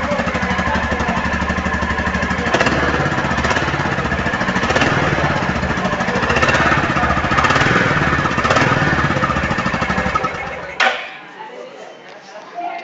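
A 2023 Royal Enfield Bullet 350 motorcycle sits idling close up, its single-cylinder exhaust thumping in a loud, steady rhythm with a few blips, then cutting off abruptly near the end.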